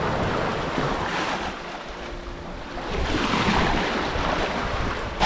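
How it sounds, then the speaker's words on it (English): Heavy offshore ocean swell breaks and rushes continuously around a sailboat en route to Puerto Rico in rough conditions, with steady wind noise on the microphone and surging waves, and no voices. "the swell is huge out there, so it's not very comfortable right now"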